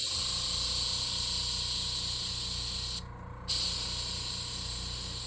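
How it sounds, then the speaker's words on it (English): An airbrush sprays red paint onto the face and head of a fishing lure, giving a close, steady hiss over a low pump hum that cuts out briefly for about half a second before resuming. "I want to paint the face red and just let the overspray go."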